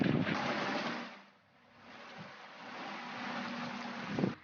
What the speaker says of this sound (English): Dusty cranks up his engine and speeds the mama otter away to safety.